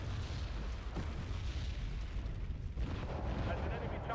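Mortar fire in Wargame Red Dragon, heard as a dull, continuous rumble of distant blasts and booms under quiet game ambience.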